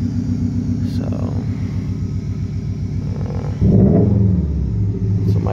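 A 2016 Subaru WRX STI with a muffler delete and deleted cat idles with a steady, deep exhaust rumble, swelling louder near the end, while a person talks over it.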